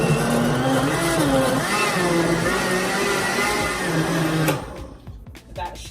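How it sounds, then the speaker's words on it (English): Blender pureeing a walnut and cauliflower mixture for a meatless taco filling, a steady loud whirring motor drone with shifting pitch that runs for several seconds, then cuts off abruptly and leaves a quieter rattle and clatter. "we're going to puree"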